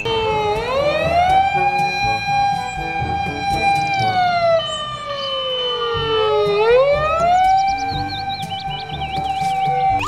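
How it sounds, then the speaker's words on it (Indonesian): A fire engine siren wails on its way to a fire, a loud continuous rising and falling tone close by, cycling slowly with higher horn-like chirps layered over traffic noise and no talking. "Wah, mobil pemadamnya menuju lokasi kebakaran, teman-teman."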